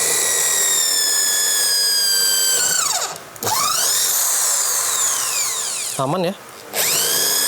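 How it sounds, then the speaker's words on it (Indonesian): An H&L PRO 10RE electric drill with a 10 mm bit bores into red cedar wood, giving a loud steady whine that dips and rises again twice as the load changes. A person briefly speaks. "kita coba kayu red cedar ya teman-teman. Seperti ini, kita pakai mata bor 10 mili, kita langsung gas dulu"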